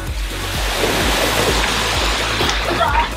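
Rushing water of a mountain stream at Guintubdan pours in a steady, fairly loud wash, with rhythmic low thumps and voices faintly mixed in.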